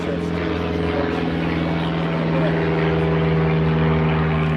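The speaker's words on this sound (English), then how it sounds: "For all you airplane aficionados, that was a Cessna 150 that just flew up" A Cessna 150 light airplane flies overhead during an outdoor baseball game, its steady propeller and engine drone loud and continuous, swelling slightly as it passes.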